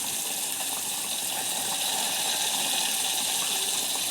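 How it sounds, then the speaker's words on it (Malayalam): Coconut oil pours into a pan of Kerala sardine curry, making a steady rushing liquid wash that holds evenly for a few seconds with no voices. "നമുക്ക് എണ്ണ ഒഴിക്കാം."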